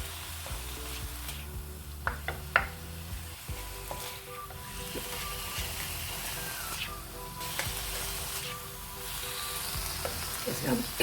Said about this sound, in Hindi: चिकन का कलर चेंज होने तक इसको हम पकाएंगे।